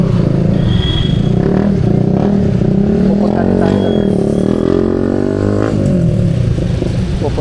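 Vehicles pass along a road, including a bus from Taps, with engines rumbling and revving and a couple of sweeping pass-bys rising and falling, loud and close, over a constant low drone.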